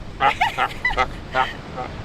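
Birds on a drive across Africa give a burst of loud, nasal honks and quacks, several calls in quick succession, fairly close and over light wind noise.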